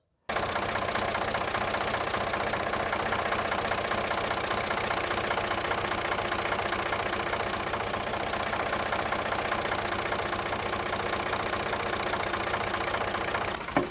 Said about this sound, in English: If I fire the backhoe up with this little piece of metal here